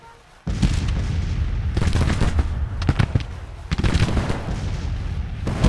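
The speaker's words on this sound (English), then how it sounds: "Form up that way and shoot the goddamn artillery." Artillery and musket fire roll through a Civil War battle video game, a loud dense barrage of overlapping booms and cracks that starts abruptly and keeps going without pause.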